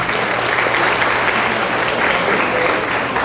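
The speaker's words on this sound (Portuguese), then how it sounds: "Vou pedir uma salva de palmas para o sensei" Steady, dense applause from an audience honoring a judo sensei at a martial arts presentation, loud and continuous throughout with no break.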